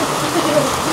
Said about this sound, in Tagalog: inabutan na nga kami ng malakas na ulan dito sa Cabin Cafe. Sobrang lakas.